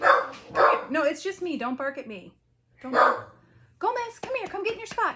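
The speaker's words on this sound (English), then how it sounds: "Don't bark at me." An aging dog that is going blind barks indoors in sharp short yelps, mixed with a man calling it close by.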